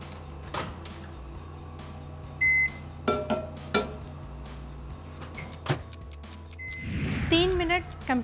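A microwave oven runs at full power, cooking covered onions with chili powder and garam masala for matar paneer. A low steady hum is broken by a beep, clicks and handling knocks, then a burst of clattering near the end.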